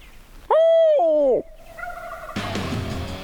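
A Rio Grande wild turkey gobbler gives a loud, rolling gobble across an open meadow, followed by a fainter answering call and a burst of broadband rustle near the end.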